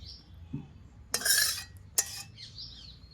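A cooking pot is lifted off a clay stove with two short metallic scrapes and clinks, close by, amid quiet outdoor ambience and faint bird calls.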